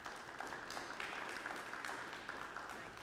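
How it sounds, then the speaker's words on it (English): Faint, steady applause rises from a gathered crowd for the county coordinators at a 100 Families expansion announcement, a distant, even patter of many hands clapping with no voices on top. "I'd like just to have another round of applause for our county coordinators"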